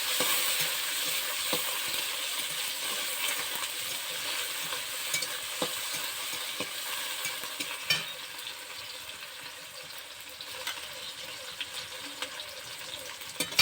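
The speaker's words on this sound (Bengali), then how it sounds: "এবার আমি কড়াইতে একটু সম্বরা দিয়ে দিলাম, তারপর পেঁয়াজ কুচি, টমেটো কুচি দিয়ে দিলাম।" Chopped onion and tomato fry in a wok after a tempering of spices, with a low, steady sizzle. Light scraping and tapping recur as the pieces are stirred, and no voices are heard.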